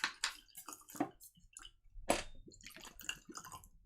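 Liquid poured from a bottle into a glass for a blind tasting, faint close splashes and glugging drips in an uneven run of short bursts, quiet with no talk.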